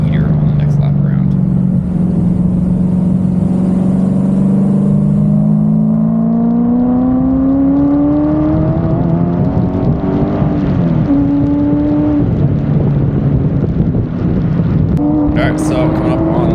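A supercharged C5 Corvette Z06 cruises around Sebring Raceway at part throttle, its engine note rising and falling steadily and loud throughout, with a talking voice over it.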